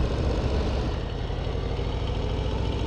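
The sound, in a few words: Harley-Davidson Street Bob 117 motorcycle engine riding in second gear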